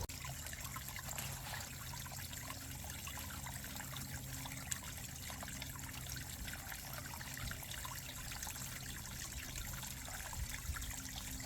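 Water in a backyard pond fitted with a SunSun UV clarifier trickles steadily, a continuous soft wash with outdoor background noise and no talk.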